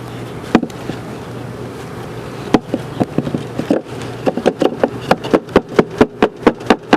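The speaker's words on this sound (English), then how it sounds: "So just knocking these bees off." A hive frame is knocked repeatedly to shake honey bees off. The sharp knocks start sparse, then come in a quick rhythmic series over a constant buzz of bees.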